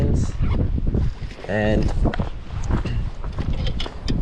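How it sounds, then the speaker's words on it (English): Gusty wind buffets the microphone by a fishing canal under cloudy skies, a steady rumbling roar beneath a voice. "it's quite windy"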